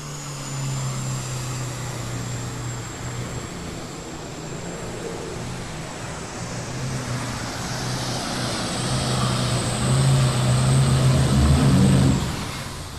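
A superstock-class tractor at a 1993 farm machinery show pull roars off the start line, a loud sustained engine drone that swells and climbs in pitch toward the end before easing off, heard across an indoor arena.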